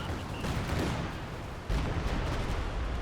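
Rocket artillery barrages and airstrikes in Company of Heroes 2 pound away as a dense, distant-sounding rattle of explosions and gunfire, with a heavier impact thudding in midway.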